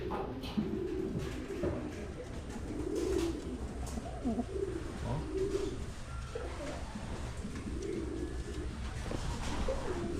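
Soft, low bird coos repeat at intervals over a steady outdoor hum, with faint chirps now and then.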